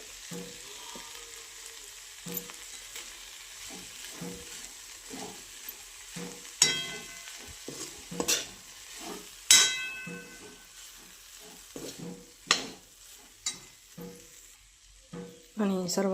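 Cluster beans (gavar) sizzle and fry in a pan with peanut powder, stirred by hand, giving a steady close frying hiss broken by repeated scraping and clinking strokes of the spoon against the pan, with no talking.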